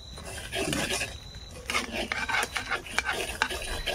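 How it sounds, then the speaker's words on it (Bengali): Semolina frying in a pan at home while a spoon stirs and scrapes it, soft crackling and rhythmic rasping strokes heard up close. "এদিকে সুজি ভাজা হচ্ছে"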